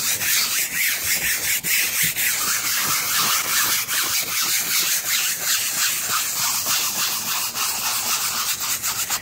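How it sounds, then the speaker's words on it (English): A wet brush scrubs a convertible's fabric top with steady, rapid back-and-forth strokes, a loud continuous rasping close up that runs unbroken throughout. "I'm gonna go ahead and wet this brush a little bit to help out, and we'll start scrubbing it."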